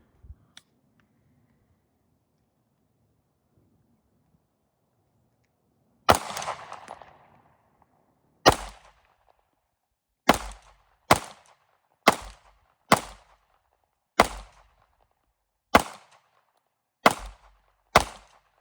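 Around ten sharp pistol shots from a Sig Sauer P320 Flux Legion fired at a target on a range, spaced irregularly about a second apart, each a crisp crack with a short tail, after a quiet start.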